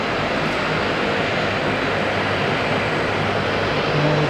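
Steady broadband roar of a Texel freighter aircraft's engines at Auckland International Airport, loud and continuous throughout with no breaks.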